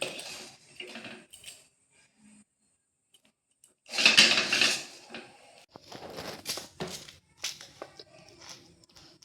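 Coconut sandesh is pressed and scraped into a ghee-greased metal plate, giving bursts of metallic clinks and scrapes, loudest midway, amid quieter gaps, with no talking.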